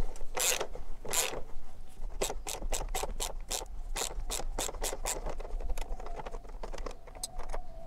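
A battery holder bracket on a motorcycle is loosened in a garage, producing a run of quick metallic ratcheting clicks and rubbing with a few brief pauses, close and steady throughout, no voices.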